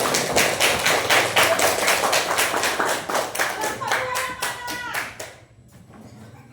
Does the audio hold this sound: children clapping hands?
yes